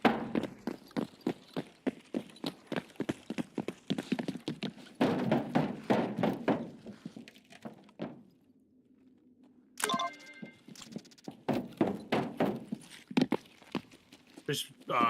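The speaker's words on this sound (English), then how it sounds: "Footsteps, yeah, I hear it." Footsteps in a video game land as rapid, distinct thuds in running bursts, pausing briefly midway before resuming, fairly close and clear.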